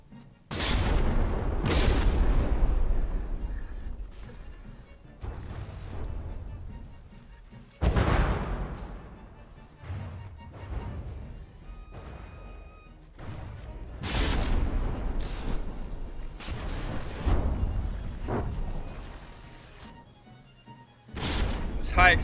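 Warship cannons in From the Depths fire a string of loud, booming shell blasts at irregular intervals across the whole stretch, each with a rolling decay, heavy and close.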